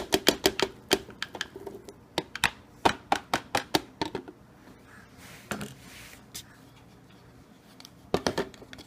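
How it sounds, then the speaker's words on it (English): Carrot pieces dropped into a bowl for homemade baby food, a rapid series of sharp clattering knocks in bursts, fairly close, with a quieter pause before a final cluster of hits. "So now the carrots go directly into the bowl."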